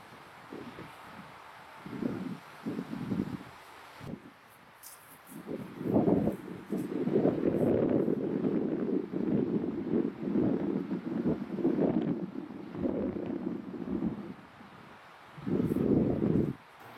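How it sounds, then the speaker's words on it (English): Wind gusts across an outdoor disc golf course and buffet the microphone in uneven low rumbling bursts, loud and close, with no talking. "now there's wind behind me, so it was left to right, now it's kind of moving this way."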